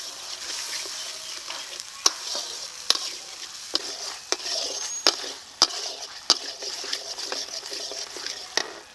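Spice paste with salt and a little water is stir-fried in a pan, a constant sizzle broken by sharp, irregular spatula taps and scrapes against the pan.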